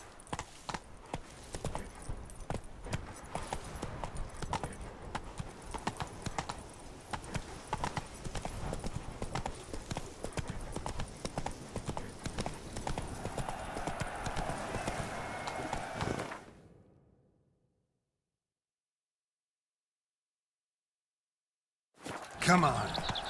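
Roach the horse galloping in The Witcher 3, rapid rhythmic hoofbeats pounding steadily for about fifteen seconds before cutting to silence, with a brief burst of sound at the very end.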